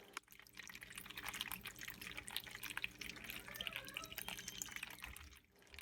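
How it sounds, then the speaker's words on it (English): Water trickles and drips steadily from a homemade fountain built from cups, a soft, continuous patter of small splashes close by with no voices. "water could flow in more directions and create more beautiful sounds"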